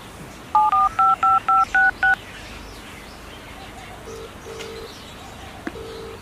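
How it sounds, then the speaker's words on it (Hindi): Someone dials a number on a keypad phone: seven quick, evenly spaced beeping tones, close and clear, then a few softer, longer tones follow against quiet background noise. "तेरे घर वाला का नंबर लगा जल्दी से"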